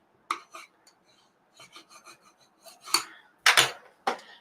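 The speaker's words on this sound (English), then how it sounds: "I'm just going to give that a good rub down" A bone folder rubs down vellum on a card project in short scraping strokes, close and crisp, starting sparse and growing louder and denser toward the end, with no talk.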